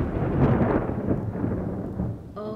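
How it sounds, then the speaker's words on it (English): Rolling thunder from a lightning strike in the sandbox video game WorldBox: a loud, sustained low rumble that fades gradually over a couple of seconds before a brief tonal game chime. "That was lightning."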